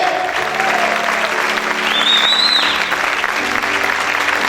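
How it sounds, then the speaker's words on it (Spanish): Loud, sustained applause from a large church congregation fills the whole stretch, dense and continuous, with a few high whistles or shouts rising above the clapping. "Aplaude fuerte a tu Rey en esta hora."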